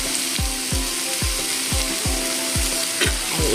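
Pieces of roasted ridge gourd frying in a hot pan, with a steady loud sizzle and regular scraping strokes of a spatula about twice a second.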